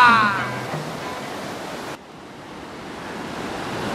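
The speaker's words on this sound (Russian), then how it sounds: "Это река Большой Усек." The rushing mountain river Bolshoy Usek in the Dzhungarian Alatau roars as a steady, loud broadband wash, with a brief bright sound at the start.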